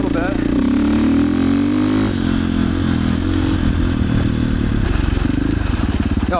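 KOVE 450 Rally motorcycle on a gravel road, the engine droning loud and close with shifting revs and gravel crunching under the tires, while a rider talks over the noise.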